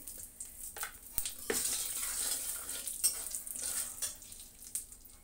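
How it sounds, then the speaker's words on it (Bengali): Spices frying in oil with cumin seeds in a wok give a quiet, crackling sizzle with irregular spattering pops and a few sharp clicks of stirring, close by with no talk. "ভীষণ তেল ছেটেছে"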